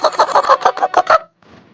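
Cartoon chickens cluck in a quick, close run of about seven sharp clucks, followed by a faint, softer tail.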